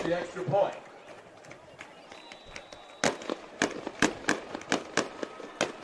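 Fireworks bursting over a high school football stadium after a touchdown: a string of sharp, loud cracks and pops arriving in quick irregular succession, following crowd noise and announcer talk at the start.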